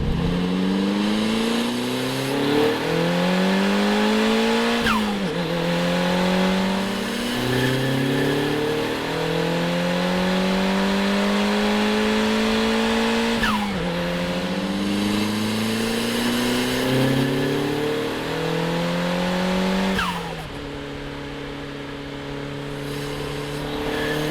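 Turbocharged Nissan Pulsar GTI-R on its standard turbo, engine pulling hard through repeated gear changes, each climb in revs ending in a shift, loud and close for about twenty seconds before settling to a steadier drone.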